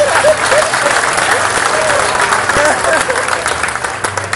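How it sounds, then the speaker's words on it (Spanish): Audience applause fills a comedy show in Colombia, a steady wash of clapping from a crowd lasting throughout, with some voices and whistles mixed in. "Un aplauso para todo el pueblo campesino"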